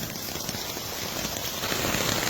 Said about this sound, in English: Thunderstorm, pissing down with rain, and I love it.